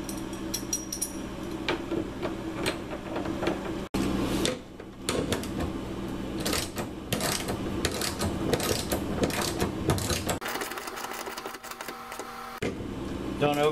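Screws driven into the door hinge of a household appliance with a power screwdriver, giving close, repeated whirring and ratcheting bursts mixed with clicks and handling noise.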